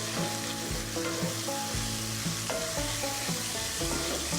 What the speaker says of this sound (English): Okay, I got to get this bacon stirred up. I don't want to stick.